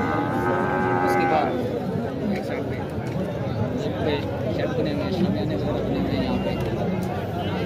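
Calves and cows at a crowded Qurbani livestock market in Layyah moo near the start, a long drawn-out call, over a constant din of crowd chatter and people talking close by.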